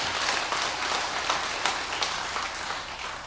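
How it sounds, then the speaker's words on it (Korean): A church congregation at a Sunday worship service in Seoul gives dense, steady applause, a continuous wash of many hands clapping at moderate loudness for a few seconds with no speech over it. "여러분이 칠 수 있는 최고의 박수를 하나님께 드리겠습니다."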